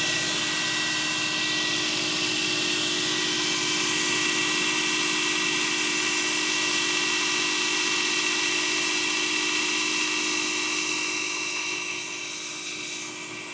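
A blacksmith's grinder whines steadily against metal alongside the constant roar of a dust collector, a loud sustained drone with tonal hums that eases slightly near the end.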